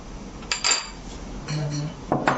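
A spoon mixes homemade condensed milk into a mango pudding mixture in a bowl, giving close, clear clinks and scrapes that come in short bursts with faint background noise.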